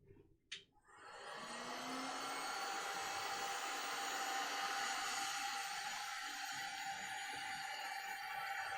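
Heat gun heating material for heat forming, a steady close blowing whir that starts after a short click and runs evenly to the end.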